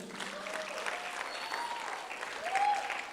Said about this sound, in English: Can you give a clap to our teachers?